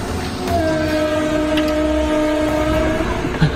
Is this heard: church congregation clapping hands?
no